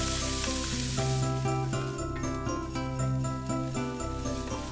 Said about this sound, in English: Reduce the heat to medium and add 1 large onion chopped and a dash of salt and pepper.